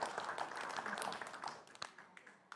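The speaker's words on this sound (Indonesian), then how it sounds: "boleh berikan tepuk tangan untuk pasangan calon nomor urut 1" An audience applauds candidate pair number one at a 2020 Karawang regional election public debate, a steady patter of clapping from a crowd that thins and fades toward the end.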